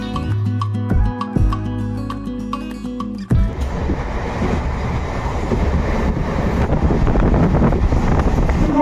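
A train runs on the rail line toward Bankura, a steady loud rumble and rushing roar that follows a few seconds of music at the start.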